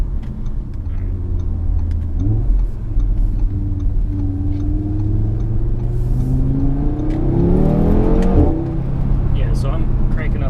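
2018 Audi RS3 with STM mid-pipes pulling hard in third gear, heard from inside the cabin as a loud, rising engine drone and booming rumble over about ten seconds, with people talking over it.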